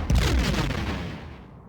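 A torpedo launching in a Star Trek space combat video game, one loud heavy boom that rolls off into a long fading rumble, with no speech.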